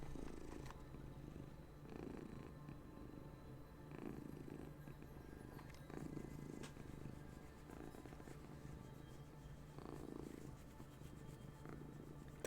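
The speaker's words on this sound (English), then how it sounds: "The loud purrs." A cat purrs close by in a steady, rhythmic rumble, with each breath in and out repeating evenly and no other sounds.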